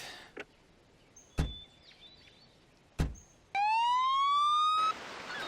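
A single ambulance siren tone in the video game Emergency 4 with a New York City mod rises and holds for about a second after a couple of sharp clicks and thumps, with no talking.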